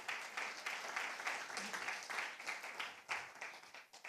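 A church congregation at a Spanish-language service claps together in praise, a faint, dense patter of many hands that continues steadily for a few seconds.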